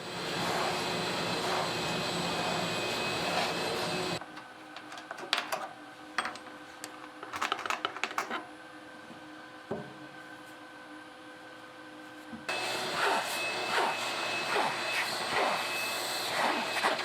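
A CNC router bores 1.5-inch-diameter, nearly 3-inch-deep holes in wood, making a loud, steady roaring whine that stops for several seconds of quiet ticks and clicks, then resumes just as loud.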